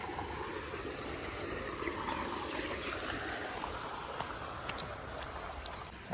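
Water runs steadily from a motor pump at a cattle shed, a continuous gushing and trickling stream that holds an even level throughout with no voices.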